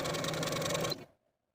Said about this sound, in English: take it back to your sewing machine and baste these two waistband pieces together along the bottom edge